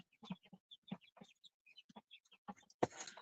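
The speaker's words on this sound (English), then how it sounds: "The birds are lively today because they just got fresh new" Several chickens in a brooder cluck and chirp close by in quick, scattered bursts, ending with a louder squawk.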